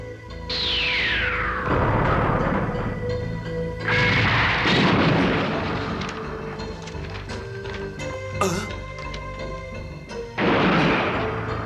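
Bomb charges detonating on a building roof in a 1989 anime, heavy booming blasts and a falling whistle, several loud explosions with rumbling gaps between them, no voices.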